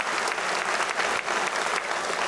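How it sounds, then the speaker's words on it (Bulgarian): An audience at a live event in Varna applauds loudly, a dense, steady clatter of many hands that swells and dips slightly throughout without anyone talking over it. "Аплодисменти са за тях в момента."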